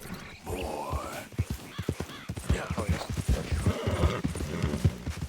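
A horse in Red Dead Redemption 2 clip-clops along at a steady gait with loud close hoofbeats, letting out a whinny along the way, over a busy game background.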